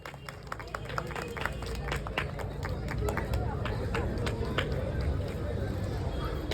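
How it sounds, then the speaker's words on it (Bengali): A crowd at a felicitation event bursts into loud, sustained applause for guests, many hands clapping in a dense crackle that keeps going throughout, with voices murmuring underneath. "জোরে একটা হাততালি হয়ে যাক"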